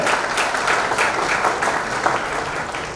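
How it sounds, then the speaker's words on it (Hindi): A college crowd claps loudly and continuously for the principal at an event, a thick wash of many hands holding a steady, strong level throughout. "हमारी principal madam doctor Mrs Chaitali चक्रवर्ती के लिए जोरदार तालियां होनी चाहिए।"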